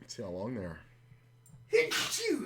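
A person sneezes sharply partway through a cash game card session, a short burst that follows a stretch of speech and is followed by more talking.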